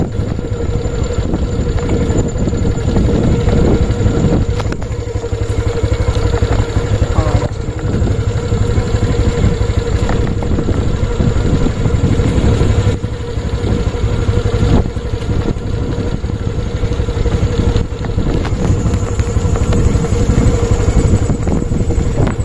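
A motorcycle engine drones continuously while being ridden, a loud steady hum with wind noise throughout, and people talk over it at times.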